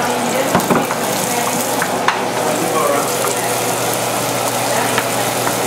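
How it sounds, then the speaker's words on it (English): Steady sizzling of onions, garlic and jalapeños frying in hot oil, close and continuous, with a few light clinks of stirring. "we're just frying basically the onions, the garlic, and the jalapenos all together"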